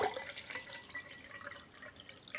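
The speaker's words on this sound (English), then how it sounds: "we're just going to go ahead and pour about half of this into the one on the left" Water poured from one container into another during a liquid test on a Terra Resonator Mini, a soft, close trickle with light splashing and drips lasting a couple of seconds.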